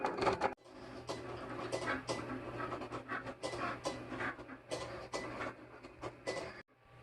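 A Cricut Explore Air 2 cuts a koozie design, giving faint mechanical whirring with repeated short scraping strokes and carriage movements, close by and otherwise quiet.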